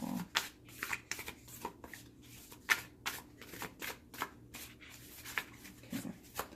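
Rapid bursts of postcard-sized cards riffling and flicking as they are shuffled, repeated in quick irregular waves, close up and fairly quiet.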